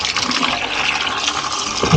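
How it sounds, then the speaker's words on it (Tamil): Running water pours steadily over a leaf being rinsed, a continuous splashing stream throughout with no voices. "இலையை வந்து நல்லா கழுவிக்கலாம்"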